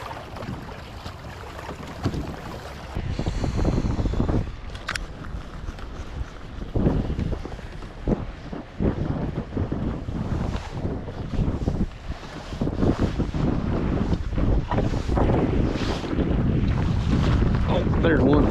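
Winter wind gusts hard across Lake Norman around someone fishing from a kayak. It roars and buffets the microphone in uneven rushes, with faint water and waves beneath.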